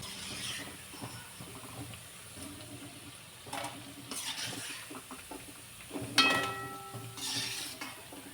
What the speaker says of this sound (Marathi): उरलेल्या पिठाची पण अशी मी भजी बनवल्यासारखं तळून घेते.